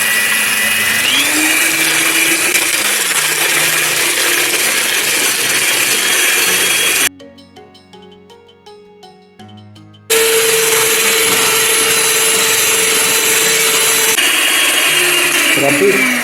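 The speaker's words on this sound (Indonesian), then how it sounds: "Lalu kita mixer selama 15 menit." An electric mixer whirs steadily at high speed as it beats egg roll batter, a loud, continuous motor drone that drops out briefly partway through and then resumes.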